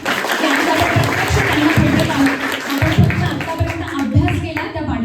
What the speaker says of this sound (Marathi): त्यासाठी जोरदार टाळ्या वाजवायच्या।